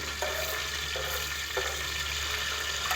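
Cardamom pods fry in a pan for zarda, a moderate steady sizzle with soft stirring scrapes at intervals and no speech over it.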